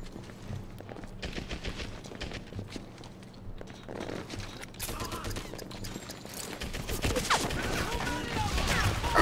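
Gunfire in the World War II shooter Medal of Honor: Airborne, with scattered shots and bursts among footsteps and mechanical clatter, building to a loud, dense barrage near the end.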